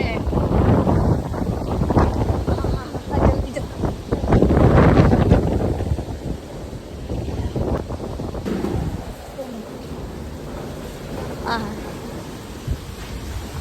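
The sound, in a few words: strong wind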